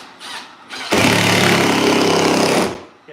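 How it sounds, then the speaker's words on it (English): A power screwdriver drives a screw into wood while a quilt rack is built from an old door: a brief motor whir after a couple of short bursts, loud and close, then it stops. "I gotta screw this in"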